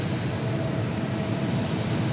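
A jet airliner roars steadily at Los Angeles International Airport in Microsoft Flight Simulator 2020, a broad continuous engine rumble that stays loud and unchanging throughout.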